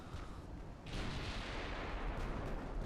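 Naval gunfire from battleships in the game Ultimate Admiral: Dreadnoughts rumbles as a dense, continuous roar of heavy artillery, with a louder surge of booming blasts near the middle.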